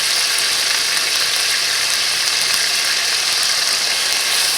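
Minced garlic sizzles steadily in a pot of Ghanaian taro leaf (kontomire) stew, a dense, even frying hiss that stays loud and close throughout with no talking.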